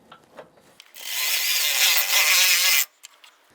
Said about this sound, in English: Now I'm going to tighten down the bolt on the front here.